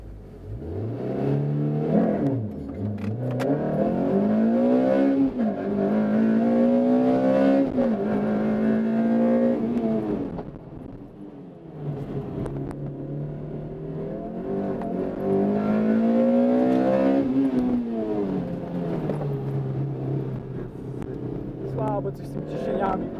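Toyota MR2 at a 4AGE enthusiast meet in Ułęż, its engine revving and pulling through gears in long rising sweeps, close and steady, with a voice talking over it at times.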